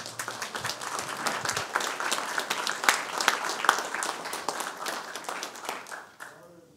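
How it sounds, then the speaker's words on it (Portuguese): A church congregation applauds the Lord at a worship meeting, dense steady clapping from many hands with some sharper claps and a little voice mixed in, fading out at the end. "Vamos aplaudir o Senhor, irmão?"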